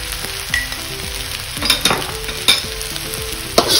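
Chicken chow mein is stir-fried with a spoonful of Chinese chili oil, giving an intense sizzle with repeated tossing and scraping bursts over soft melodic background music.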